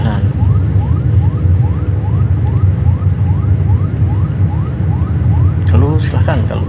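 A wailing ambulance siren sweeps repeatedly over heavy traffic rumble on a busy city street at night, loud and close, with a brief burst of shouting or horn near the end.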